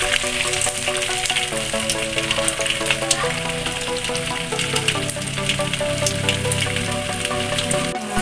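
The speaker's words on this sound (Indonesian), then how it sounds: "Ikan asinnya kita goreng agak kering ya Bunda." Salted fish frying in hot oil gives a loud, steady crackling sizzle with scattered pops, continuous and close, while a cook stirs the pan.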